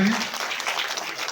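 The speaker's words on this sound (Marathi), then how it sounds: "सगळ्या जोरदार टाळ्या वाजवायच्या त्या ठिकाणी." A crowd claps steadily in a dense, continuous burst of applause at a Phule and Ambedkar Jayanti gathering with a school supply distribution, a voice briefly heard at the start.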